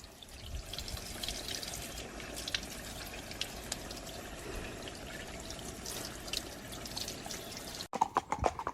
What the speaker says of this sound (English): cold hosing my horse's leg